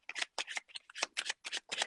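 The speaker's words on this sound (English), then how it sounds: "So we give the cards a little shuffle." Packet of playing cards being shuffled by hand: a rapid series of about seven crisp riffling bursts, each roughly a quarter second, close and clear with no talking.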